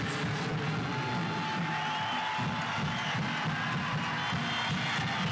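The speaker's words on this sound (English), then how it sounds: "Locomotive fans try to cheer their team on." El Paso Locomotive FC fans cheering in the stadium during a soccer match against Monterey Bay, a steady wall of distant crowd noise and shouting that holds without a break.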